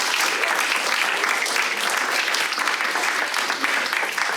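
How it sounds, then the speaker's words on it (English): Audience applause at a wealth-building panel, steady dense clapping sustained throughout at close, loud level with no pauses. "Let's give another round of applause."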